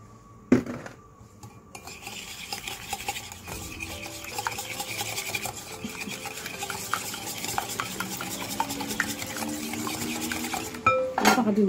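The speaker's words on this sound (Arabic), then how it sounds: "ونزيد الحليب، غادي نستمر في الخلط" Tart dough being mixed with oil and milk in a bowl, a utensil scraping and clinking against the bowl in a steady stirring rhythm that grows busier and louder, with a few sharper knocks near the start and end.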